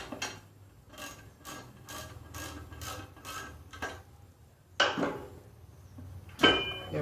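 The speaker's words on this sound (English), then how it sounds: "So I'm just trying to get this bolt out." A bolt is worked out of the gear case of a 1955 Wheel Horse Senior tractor: a series of short ratcheting scrapes and metallic rubbing, then two sharper clanks, close and fairly quiet.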